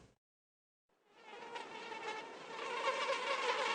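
Mosquitoes buzz in a dense, steady high-pitched whine that starts after a short silence and swells gradually louder, sounding close and continuous.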